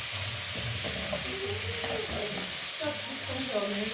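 Tomatoes frying in a pan while preparing Kenyan omena sardines, a steady sizzle with stirring, while a voice talks over it throughout.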